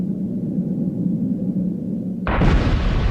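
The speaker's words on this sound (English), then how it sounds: "the standard practice for exposing a new rock face is to blast it" A controlled blast goes off at a mine to expose a new rock face: a low rumbling hum gives way to a sudden, loud, broad explosive roar that keeps rumbling to the end.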